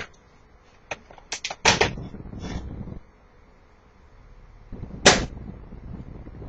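Sharp cracks of an airsoft gun firing, with one later distant snap of a pellet striking the screen of an RV parked downrange outdoors, separated by quiet background.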